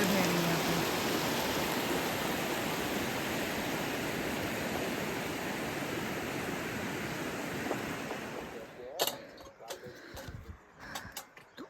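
The Narmada river rushes over stones near Amarkantak in a loud, steady wash of flowing water that drops away near the end, leaving scattered close rustles and knocks.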